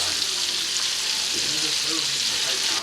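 Shrimp and garlic sizzle steadily in a pan over moderate heat for scampi, a loud, continuous broadband hiss of frying with no talking.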